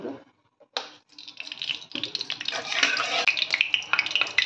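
Potatoes frying in hot oil for a cauliflower and besan curry, stirred with a utensil: near, scraping and sizzling that starts after a brief quiet, then builds into dense clattering stirring that runs continuously, with no one talking.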